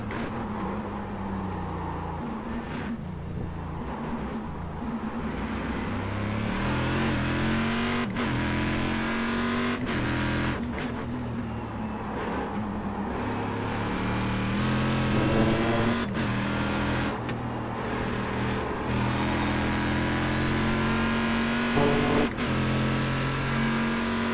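GT race car engine lapping Zandvoort in iRacing, a loud, continuous drone that rises and falls through gear changes and never drops away.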